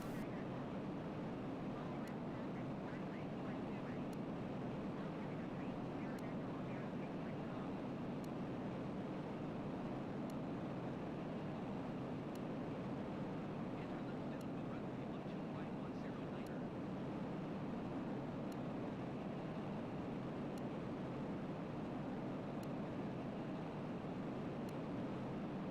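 An Ilyushin Il-86 airliner in Microsoft Flight Simulator 2020 builds speed slowly, giving a steady, even roar of jet engines and airflow with no breaks across the whole stretch.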